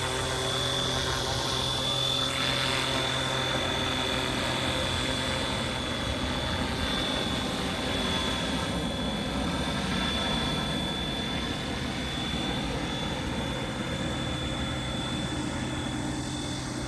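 A FlyWing Bell 206 V2.5 RC helicopter with a three-bladed head flies nearby, a steady loud high-pitched motor whine and rotor buzz that holds unbroken throughout.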